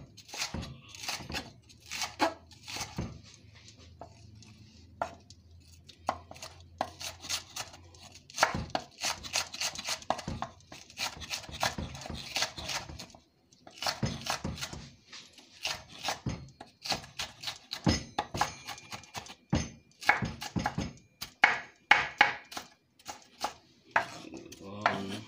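Rapid knife chopping of red pepper on a cutting board, bursts of quick taps separated by short pauses, close and clear, with some voices talking in the background.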